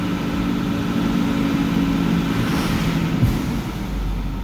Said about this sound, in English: Sometimes the new fan clutches do that once they get spun up.